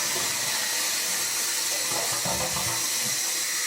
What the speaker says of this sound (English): I'm going to flush it and we'll see.